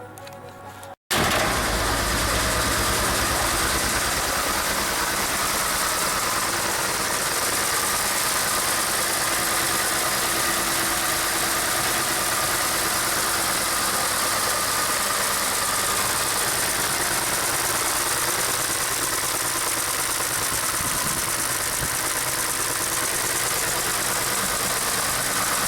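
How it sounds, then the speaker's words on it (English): Car engine idling steadily with noisy rocker arms ticking in the top end, a loud, continuous close-up drone that runs unbroken after a brief start and has no talk over it. "Noisy rockers in the top"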